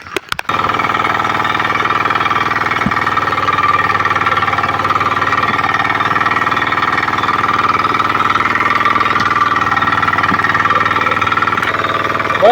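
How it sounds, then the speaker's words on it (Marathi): A tractor engine runs steadily and loudly up close during heavy rain by flooded paddy fields, a continuous rough mechanical drone that holds for the whole stretch with no talking. "तरी पण आपण ट्रॅक्टर चालू करतोय"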